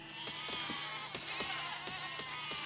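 Sheep bleat in the physics game Besiege, wavering nasal cries layered over a steady mechanical whine and clicking, moderately faint with no talk.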